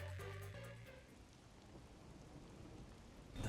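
Steady rain falls in the video game Master Detective Archives: Rain Code, a dense even wash with no voices, a few low tones in the opening second and a louder swell right at the end.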